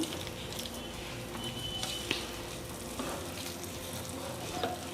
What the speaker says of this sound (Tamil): நல்லா மிக்ஸ் பண்ணி விடலாம் ஃபுல்லாக மேலே கீழே ஃபுல்லாக